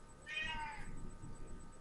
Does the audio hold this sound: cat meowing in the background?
yes